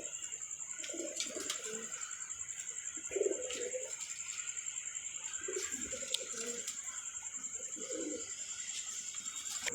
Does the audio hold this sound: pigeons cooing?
yes